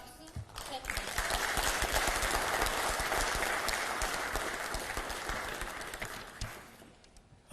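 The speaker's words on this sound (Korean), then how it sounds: "모두 환영의 박수 부탁드립니다." Audience applause welcoming a Korean presidential candidate at a party event: dense, steady clapping from a crowd that swells quickly, holds loud for several seconds, then fades toward the end.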